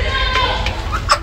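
Chickens at a farm, among them a rooster, with scattered clucks and calls over a steady low rumble, close and fairly loud.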